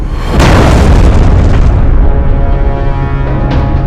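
A massive weapon fires and detonates in a Sacred 3 cutscene, a loud booming blast that erupts suddenly and rolls out into a long rumbling decay, with no speech over it.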